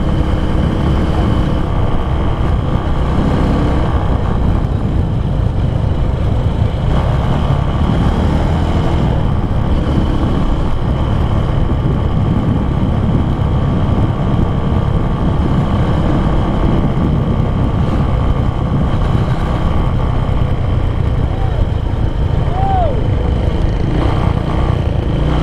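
Steady, loud engine drone and wind rush from a 2011 Honda Tiger motorcycle on a test ride, a continuous low rumble that holds evenly throughout without pauses.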